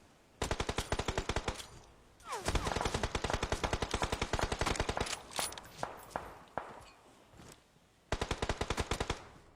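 Rapid automatic gunfire from a shooting video game, loud bursts in steady rapid rhythm with a short pause near the start of the run and another before a final burst, with faint voices underneath.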